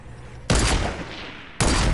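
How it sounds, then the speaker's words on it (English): Gunfire in a shooter video game: two sharp, loud shots, roughly a second apart, each cracking out suddenly over a quiet background. "When I shoot you."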